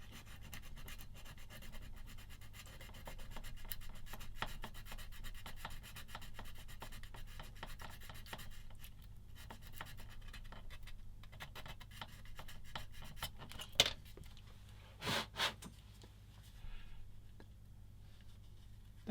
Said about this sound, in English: I'm going to do a bit more with this sanding stick, just there